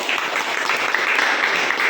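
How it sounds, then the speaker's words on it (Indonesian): A burst of clapping from a group, brisk and steady throughout, fairly close and loud. "tepuk tangan dulu."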